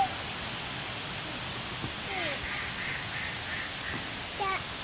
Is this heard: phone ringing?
no